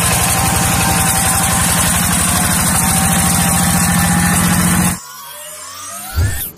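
A rice field tractor's engine idles loud and steady with a rapid low chugging pulse, then cuts out abruptly near the end, leaving near silence broken by a brief low thump.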